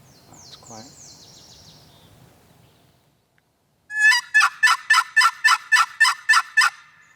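After some faint rustling and a quiet pause, a wild turkey gobbles loudly in a rapid series of pulsing notes, ringing out nearby in still air.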